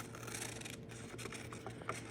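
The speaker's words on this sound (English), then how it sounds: "So now I'm just going to take my scissors," Scissors snip and trim excess paper around a handmade Christmas ornament, several quiet cuts with soft rubbing of paper, close but faint, no talking.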